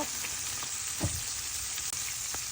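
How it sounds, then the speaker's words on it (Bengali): Puti fish fry in oil in a pan, giving a continuous, fairly quiet sizzle with a few soft knocks of stirring over it and no voices. "বন্ধুরা আজকে দেখেন আমি এই পুঁটি মাছ ভাজবো।"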